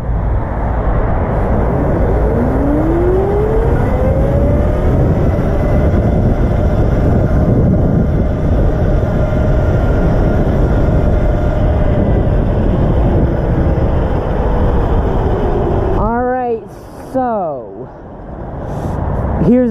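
72V Razor MX500 electric motorbike accelerating on a top speed run, a rising then steady motor whine with strong wind rush, with a voice talking over it near the end.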